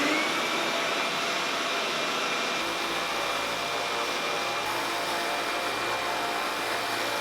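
A workshop dust collection system runs with a steady, loud whooshing roar, its airflow hum unbroken and alone for the whole stretch, with no talking.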